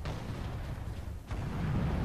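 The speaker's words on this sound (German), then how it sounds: "Ork-Geschütze!" A deep Ork artillery boom rumbles through the video game Space Marine, a heavy low blast with a sharp burst partway through over a constant battle rumble.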